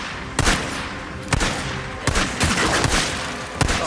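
Gunfire in the video game Days Gone comes as several loud, sharp shots and short bursts at irregular intervals over a steady background din.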